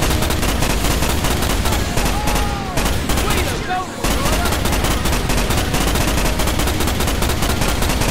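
Rapid, sustained gunfire and fusillade against alien bugs in the Starship Troopers video game, loud and continuous, with a brief lull partway through before the shooting resumes at full intensity.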